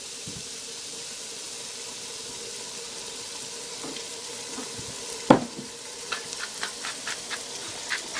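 Eggplant and fish sizzle steadily in a frying pan, then a sharp utensil knock is followed by a string of light scraping stirs against the pan, all fairly close with no talking.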